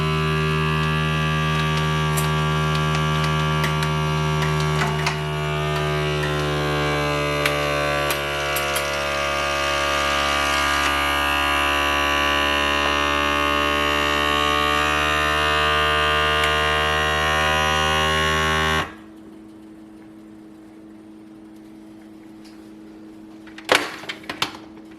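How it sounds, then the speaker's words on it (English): A vacuum sealer machine sealing a bag of popcorn or black-eyed peas runs with a loud, steady mechanical drone and hum for about eighteen seconds, then cuts off abruptly, followed by a few faint clicks. "So what we're doing today is vacuum sealing popcorn and black-eyed peas."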